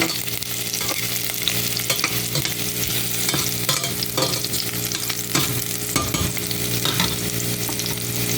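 Garlic fries toward brown in a pan for chicken tinola, a loud, constant sizzle broken by repeated stirring scrapes, steady and close with no speech.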